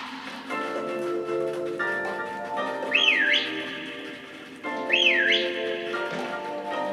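A character whistles in the Pokemon Shield video game: two rising-and-falling whistle phrases a couple of seconds apart, heard over sustained game music.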